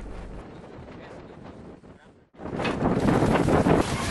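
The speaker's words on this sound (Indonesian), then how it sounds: "hembusan angin yang cukup kencang" Strong wind gusting along the coast where fishermen are kept ashore, rushing and buffeting the microphone, easing briefly to near quiet before surging back louder and rougher.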